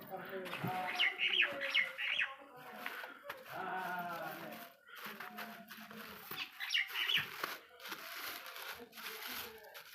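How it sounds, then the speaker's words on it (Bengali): Pigeons coo and chirp in short bursts around the listener while feeding, with flapping and pecking noises and a voice speaking now and then in between. "দেখতে পাচ্ছ পায়রাগুলো খাবার জন্য কী করছে দেখো"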